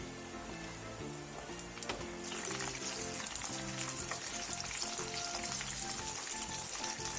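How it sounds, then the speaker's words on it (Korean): Mackerel frying in oil preheated over medium-low heat, a dense rain-like sizzle that grows louder a couple of seconds in and holds steady, close and alone, with faint scattered pops. "그 다음 중약불에서 예열한 기름에 고등어를 넣고 노릇노릇하게 튀겨주세요."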